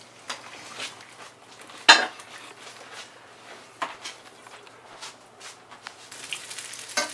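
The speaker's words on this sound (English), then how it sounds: "now I'm going to take it out and I'm going to pour it in the strainer" Boiled noodles being poured from a pot into a metal strainer in a home kitchen, with a sharp clatter of cookware followed by scattered knocks and soft splashing.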